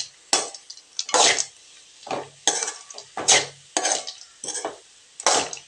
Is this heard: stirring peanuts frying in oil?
yes